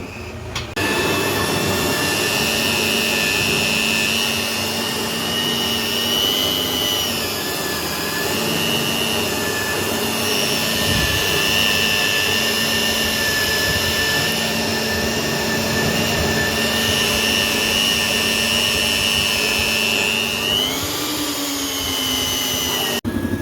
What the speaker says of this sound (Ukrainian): Ну що, працюємо, робимо дірки.